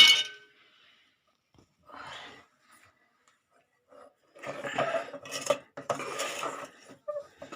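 Spoon stirring a thick adhirasam mixture in a pan, coming as short bursts of scraping and clinking of metal against metal that build into busier stirring toward the end, with brief pauses between.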